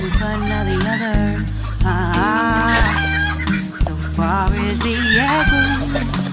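Chickens and young roosters raised on a farm for market cluck loudly and continuously up close, with crowing bursts mixed in.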